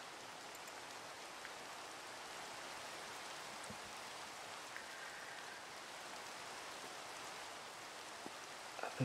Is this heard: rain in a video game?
yes